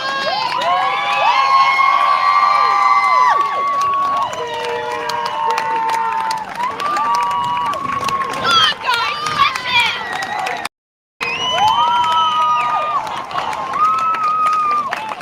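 Dense crowd at the start of the World's Toughest Row Atlantic rowing race cheers and shouts loudly, with whoops and high yells rising and falling, and a brief dropout near the end.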